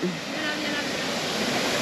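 Steady broadband rush of a waterfall at a viewpoint in Spain, loud and continuous throughout, with no talk over it.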